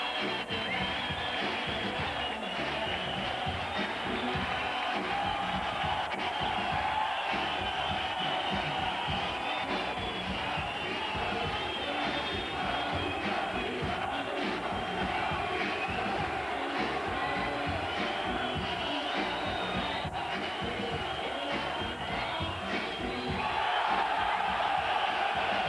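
Boxing arena crowd roaring for Naseem Hamed, a continuous dense wash of cheering, shouting and chanting voices that holds steady throughout and swells slightly near the end.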